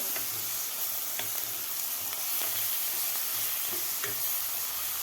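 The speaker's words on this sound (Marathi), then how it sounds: "आता वाटणसुद्धा आपल्याला 2 मिनटं व्यवस्थित परतायचं आहे कांद्याबरोबर." Masala paste frying with onions in a pan, sizzling steadily at moderate loudness with occasional stirring scrapes and soft pops throughout, no voices.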